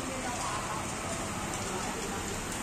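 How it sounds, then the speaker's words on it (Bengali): Dense, constant downpour of heavy rain drumming on surfaces, a loud unbroken hiss filling the whole stretch. "প্রচুর বৃষ্টি আল্লাহ, মনে হচ্ছে আষাঢ় মাস, জ্যৈষ্ঠ আষাঢ় মাসের মতো বৃষ্টি হইতেছে।"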